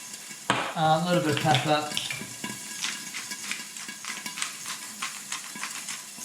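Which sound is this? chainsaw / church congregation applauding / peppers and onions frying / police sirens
peppers and onions frying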